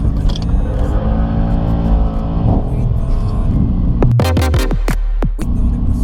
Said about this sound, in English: Now we're gonna take Paul out into the canyons in the C63.